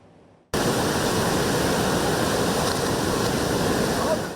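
Black Sea surf at a Şile beach rushes in as a steady, loud broadband wash of breaking waves that starts abruptly after a quiet moment and continues unbroken.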